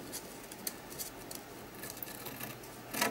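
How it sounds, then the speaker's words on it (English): Scissors snip into paper corners while decorating an art journal cover, making a few quiet, crisp cuts spaced irregularly, with a slightly louder final snip near the end in a calm, quiet room. "I'm just going to grab some scissors and I'm just going to snip"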